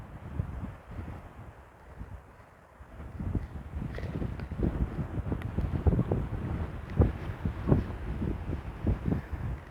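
Strong wind buffets the microphone in low, rumbling gusts that grow rougher and more frequent toward the end.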